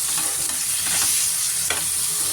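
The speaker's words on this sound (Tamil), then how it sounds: "எல்லாம் போட்டு நல்லா வதக்கிடணும்" Prawn biryani ingredients with salt and yogurt being sautéed in a pot, a dense close sizzle with a few quick stirring scrapes, loud and steady over a short stretch, no one talking.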